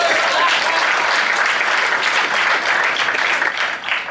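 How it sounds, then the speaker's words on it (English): Audience applause at a motivational growth-mindset talk, loud and dense clapping sustained throughout with no speech over it. "Just give him a round of applause."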